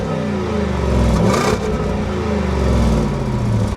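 A Porsche Cayenne Turbo GT's 4.0-litre biturbo V8 rated 640 kW and 850 Nm roars steadily and loudly, its deep engine note swelling as it accelerates and holding strong throughout with no voices.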